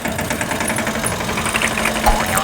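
An HMT tractor engine runs steadily at idle, a loud, continuous low rumble with a faint knocking pulse throughout and no speech.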